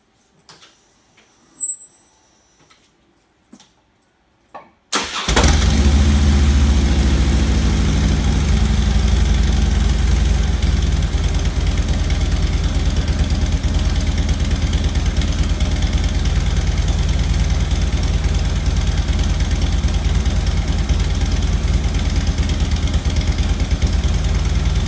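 A bone-stock 2009 Harley-Davidson FLHT with its factory exhaust and a K&N intake idles in a loud, steady, lumpy rumble. A few seconds of near-silence with faint clicks come before it.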